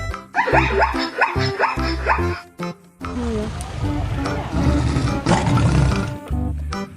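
A toy tiger gives loud electronic roars and growls mixed with music and other animal-toy sounds, playing close and continuously among toy animals on a truck, including a zebra and a crab.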